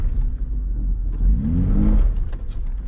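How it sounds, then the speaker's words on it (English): A first-generation Toyota Tacoma engine revs through an AirAid intake while the foot is held on the brake, giving a loud, close, rising and falling engine roar with a throaty intake note and no voices. "I'm just saying, listen to the intake."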